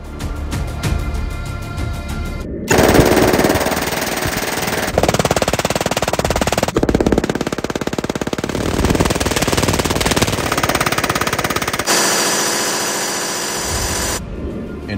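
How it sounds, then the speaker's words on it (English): Seven German MG-42 machine guns firing at once, a continuous, extremely loud ripping roar of rapid fire in long sustained bursts. The bursts change in texture and level across the stretch, with no talking. "Today, we have 7 MG-42s for you to see in action at the same time."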